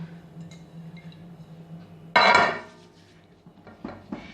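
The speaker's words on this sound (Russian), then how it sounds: "Теперь берем мисочку и смазываем растительным маслом." A bowl being picked up and greased with vegetable oil: a single sharp clattering knock of dish against a surface, then softer small clinks and taps close by, otherwise quiet with a low hum.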